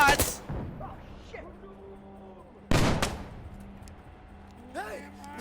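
Gunfire in the video game Insurgency: Sandstorm, a couple of sharp shots with ringing tails, one at the start and a louder one midway, heard amid in-game chatter and faint background sounds.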